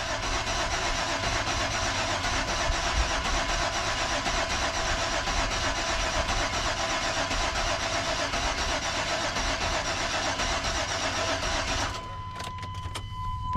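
An old parts truck's engine cranks over and over as it tries to start, a loud, steady, churning mechanical drone lasting about twelve seconds before cutting off, followed by a few faint clicks.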